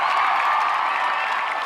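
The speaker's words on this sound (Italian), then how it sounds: "Fate un applauso per lui, Catania." Concert audience in Catania applauding at a show, a dense, steady wash of clapping and crowd noise that holds evenly at full strength throughout, with no voices standing out.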